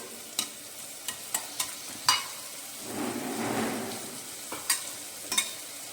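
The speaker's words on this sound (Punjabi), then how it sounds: "ਲਸਣ ਨੂੰ ਅਸੀਂ ਅੱਛੀ ਤਰ੍ਹਾਂ ਫਰਾਈ ਕਰਾਂਗੇ" Garlic sizzles steadily in a hot pan for an aloo baingan dish, with a spatula stirring and tapping against the pan in sharp intermittent clicks and one longer scraping swirl midway.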